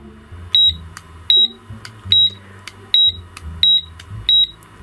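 Digital tally counter giving short, high electronic beeps as its button is pressed, about six evenly spaced beeps over a few seconds, clear and close, with soft clicking and handling noise underneath.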